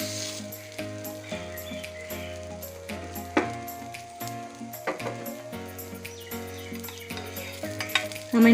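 Thoothuvalai dosa batter cooks with ghee on a pan, giving a steady close sizzle broken by spatula scrapes and taps on the metal. A low mechanical hum runs underneath the whole time.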